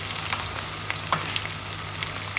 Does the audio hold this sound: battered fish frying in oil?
yes